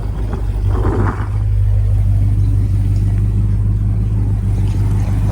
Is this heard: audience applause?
no